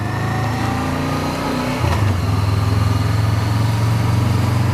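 A 2016 Honda CB500F motorcycle engine ridden between walls, a near, loud low throbbing rumble that shifts down in pitch and then settles into a steady pulsing drone as it echoes off the walls.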